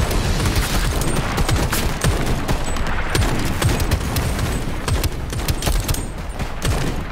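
Continuous automatic gunfire in Shatterline, loud and close, rapid shots hammering without pause for the whole stretch, no voices.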